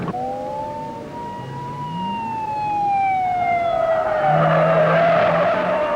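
A 1970s police patrol car corners hard through a series of curves, its tires letting out a long, loud skidding squeal that slides downward in pitch and then swells again over the drone of the engine.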